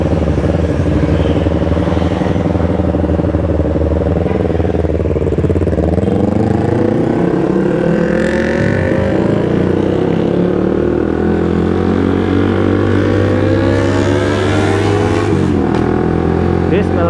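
A Suzuki GSX-R150 sport motorcycle, which has a blown water pump seal, idles and revs loudly as it rolls back and forth. Its steady engine drone rises and falls in pitch throughout.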